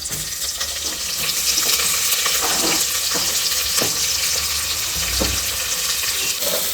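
Onions going into a hot pan for pudina (mint) biryani, a loud steady frying hiss with scattered crackles and a few stirring knocks, fairly close and continuous throughout.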